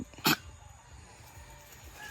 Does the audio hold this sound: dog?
yes